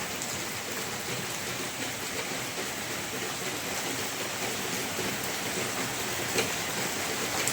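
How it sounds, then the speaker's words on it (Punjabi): Heavy rain pours down in a dense, unbroken roar, loud and steady from start to finish. "ਦੇਖੋ ਮੀਂਹ ਵੇਖੋ ਜ਼ੋਰਦਾਰ ਮੀਂਹ"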